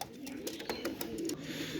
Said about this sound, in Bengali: এই যে টপ ক্লাস আলিওয়ালা কবুতর, আমার ইম্পোর্ট করা কবুতর